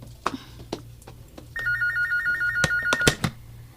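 A telephone rings with a steady electronic trill, preceded and interrupted by a few sharp knocks and clicks.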